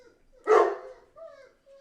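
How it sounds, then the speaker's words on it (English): A single dog gives a sharp, close bark, followed by a couple of short whining yips trailing off, heard at a home with no talking over it. "dogs are barking again"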